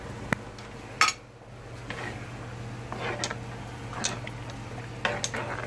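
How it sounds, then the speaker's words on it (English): Mac and cheese being stirred in a pot, with scattered clicks and scrapes of a utensil against the metal over a low steady hum, close and quiet, without talk. "Continue to stir it around a little bit because you don't want it to stick to the bottom of your pan."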